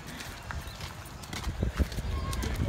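Faint clip-clop of a horse's hooves walking at a farm, irregular steps under nearby chatter and talk.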